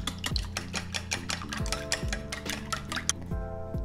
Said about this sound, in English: Now we're just going to whisk up our whole egg mixture.